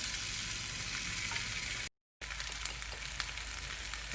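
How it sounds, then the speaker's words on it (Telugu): Potatoes frying in a pan for potato rice give a steady, close sizzle that runs on alone, broken by a short silent gap. "కాసేపు ఇలా ఫ్రై చేసుకొని"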